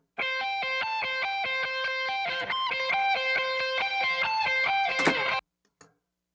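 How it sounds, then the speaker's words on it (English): A harmony lead guitar track played with reduced gain picks out a clear, sustained run of melodic notes in a steady rhythm, then stops abruptly, leaving a brief faint tail. "If you listen to one of these harmony guitars, you'll see there's a lot less gain."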